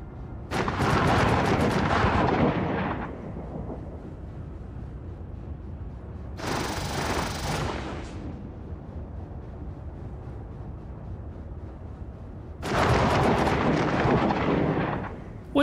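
Deep, roaring rumbles of a Pisces spaceship engine in the game Star Citizen, on the planet Microtech, swell and fade in three long bursts, heavy and booming, with no talking.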